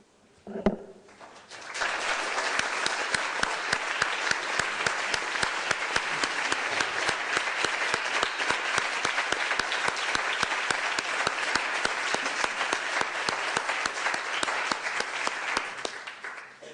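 A press-conference audience applauds the co-chairs of a global biodiversity assessment: after a brief quiet start, a thick, sustained wash of clapping from many people holds steady for about fourteen seconds before tapering off at the end.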